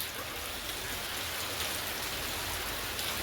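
Steady rain falling in Kerala, an even, continuous hiss of drops on surfaces that fills the whole stretch without pause, with no voices.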